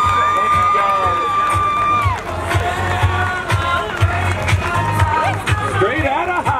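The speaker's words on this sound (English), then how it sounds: "Give him a big round of applause." A crowd at an outdoor girls' soccer senior night cheers and whoops loudly with scattered shouts and claps, while voices and a tonal whistle or horn are also heard.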